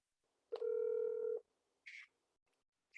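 Telephone call tone during a video meeting: one steady electronic beep lasting nearly a second, followed by short chirpy dialing blips, clean and moderately loud with no talking.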